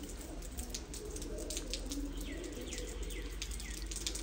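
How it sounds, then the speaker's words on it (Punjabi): A large Ali-wala pigeon, one of a big black pair kept in a pigeon loft, coos softly and low amid a steady background of other birds' high chirps and twittering, with no voices heard. "ਇਹ ਭਾਅ ਜੀ ਵੱਡਾ ਅਲੀ ਵਾਲਾ ਕਬੂਤਰ ਜੇ"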